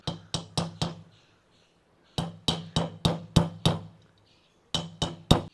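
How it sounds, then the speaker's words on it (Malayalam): A hammer drives a nail through the wall of a clay pot, which is being made into a water filter. The sharp, ringing knocks come in quick groups of four, six and four, with short pauses between groups. "ആണീനെ ഇങ്ങനെ വെച്ചിട്ട് ഒരു കനുള്ള എന്തെങ്കിലും വെച്ചിട്ട് ഇങ്ങനെ അടിച്ചു കൊടുക്കുക"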